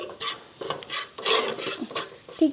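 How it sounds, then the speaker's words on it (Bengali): Onion, chili and spices with turmeric, salt and cumin powder being stirred in a pan, a close scraping and stirring rhythm over a faint sizzle, with no talk. "শুকনো উপকরণগুলো দিয়ে এবার ভালো করে আবারও মিশিয়ে নিচ্ছি"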